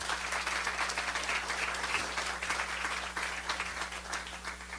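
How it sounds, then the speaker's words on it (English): Another round of applause at a synagogue groundbreaking ceremony, steady, even clapping from a crowd heard at moderate distance, sustained without a break and fairly soft overall. "Please join me in giving another round of applause to Sienna and Julian."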